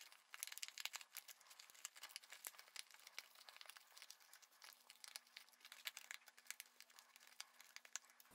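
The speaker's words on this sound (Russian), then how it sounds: "А вот эти лицевые надо отрывать аккуратно, потому что они будут видны." Cardboard detail pieces are pulled one by one from a die-cut sheet for a great dodecahedron model, making faint scattered crinkles and small tearing snaps.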